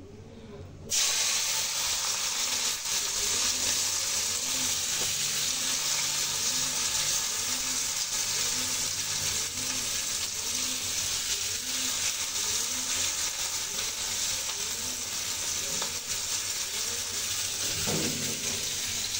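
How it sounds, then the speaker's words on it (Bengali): Onions hit hot oil and fry with a steady close hiss and sizzle after a brief quiet start, continuing evenly throughout with no talk. "এই যে তেল গরম হয়েছে, ঠিক আছে, তো পেঁয়াজ দিয়ে দিচ্ছি"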